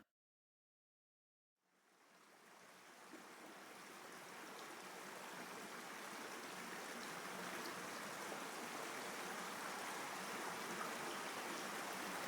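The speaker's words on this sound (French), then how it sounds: "si l'on tend l'oreille, on peut entendre le ruisseau chanter" Steady flowing water from a stream, a continuous broadband rush that starts abruptly after a short silence and holds evenly throughout, with no voices.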